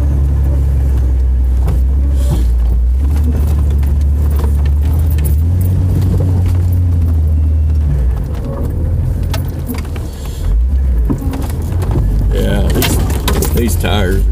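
A vehicle on new General Grabber X3 tires climbing a wet slope under light throttle, a steady low engine and road rumble that eases briefly near the end, with a voice talking over it.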